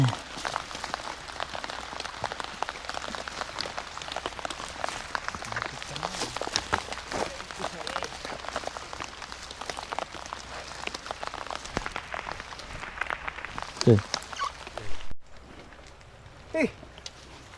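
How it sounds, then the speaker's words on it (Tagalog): Rain falls outdoors in a steady dense patter of drops on surfaces, continuous and close, with a few louder knocks near the end. "Naulan pa rin."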